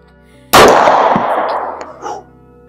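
A single loud, close pistol shot with a sharp crack followed by a long ringing metallic decay, like a round striking a small steel target, with a brief second ping near the end.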